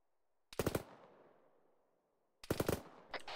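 Two bursts of rapid gunfire from distant shooters in Arma 3, each a quick cluster of sharp cracks trailing into a long echoing decay, the second burst followed by a shorter volley.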